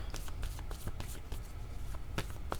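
Tarot cards are handled and drawn from a deck, soft quick papery flicks and slides in a quick irregular series, close and quiet.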